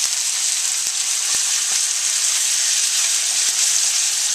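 Carrots stir-frying in a hot pan for a ramen stir fry with pork and shrimp, giving a steady, loud sizzle and hiss throughout, with a few faint clicks of stirring and no talking.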